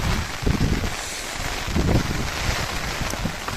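Loud, gusty monsoon wind buffets the microphone in a constant rushing roar, with a steady hiss of heavy rain underneath, at Bhagamandala, Karnataka.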